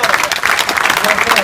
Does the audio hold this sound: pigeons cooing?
no